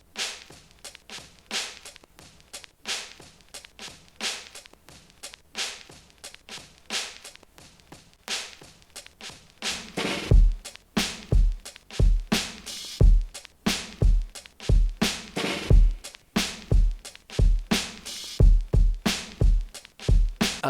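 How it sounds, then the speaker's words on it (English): A drum break shaped by three filters, starting thin and snappy with crisp transients, then strengthening at about ten seconds with deep, punchy kicks under the hits in a steady, loud loop. "this is how my drum break sounds with all of these three filters"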